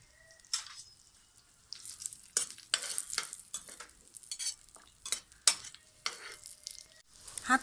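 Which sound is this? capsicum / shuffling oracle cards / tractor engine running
capsicum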